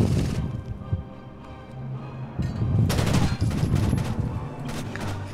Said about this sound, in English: the non-stop gunfire in my game